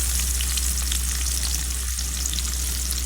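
Onion frying in leftover fish oil in a pan while cooking rui fish bhuna, a dense, continuous close sizzle that holds evenly loud throughout with a low steady hum beneath and no voices.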